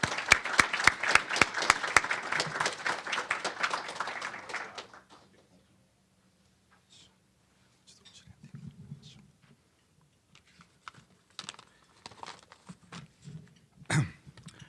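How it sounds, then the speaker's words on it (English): Applause from an audience at a formal event, a burst of dense clapping that fades out after about five seconds, followed by quiet room sounds and a few scattered noises. "Let's give him a round of applause"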